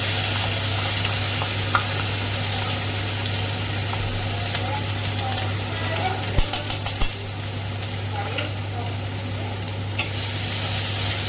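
Ginger-garlic paste fries in hot oil while being stirred, a steady sizzle with a few sharp clinks of a utensil against the pan and someone talking over it.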